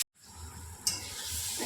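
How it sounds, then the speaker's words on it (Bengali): Mango pieces being sautéed in a pan for sweet-sour pickle, a soft hissing sizzle with a brief sharper scrape of stirring, quiet and close. "এবার আমটা হালকা আছে ভালো করে কষতে থাকবো।"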